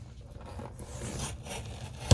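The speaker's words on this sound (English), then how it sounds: "And so I'm just going through slicing, slicing, slicing." A blade cuts through a stack of note pad paper in uneven rasping, scraping strokes, close and moderately quiet.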